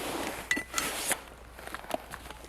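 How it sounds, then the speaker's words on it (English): A spare barrel for an M2 Browning .50 cal machine gun is set down beside the gun, making a few sharp metallic clanks and clinks at close range, with quieter handling taps afterward. "We put the spare barrel next to the gun"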